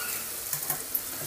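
Whole spices tempering in hot oil for a turmeric pickle in a home kitchen, giving a steady close hiss with a few soft crackles and pops over 1.3 seconds.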